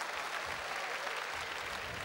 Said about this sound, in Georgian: ტაში დასხეთ ერთი